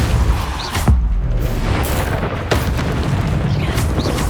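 A Repulsor spell cast in Hogwarts Legacy, a loud booming magical blast over a constant rumbling battle din, followed by further thumps.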